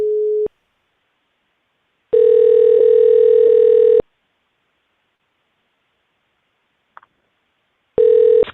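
Telephone line tones while calling a number back: a short steady tone, then a longer buzzy tone, a brief blip and another tone starting, loud and with no voices.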